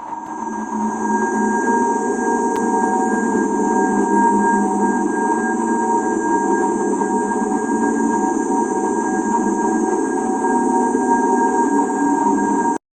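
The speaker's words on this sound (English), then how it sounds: "This is of the cosmic microwave background radiation" Sonified cosmic microwave background radiation forms a steady, unbroken drone of broad hiss layered with sustained humming tones, holding an even, fairly loud level for about thirteen seconds with no voices.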